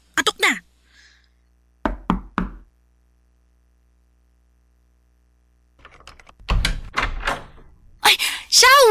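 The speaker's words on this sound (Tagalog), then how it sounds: "Katok na." Three quick knocks on a door, sharp and close, set between stretches of silence, followed by people talking excitedly.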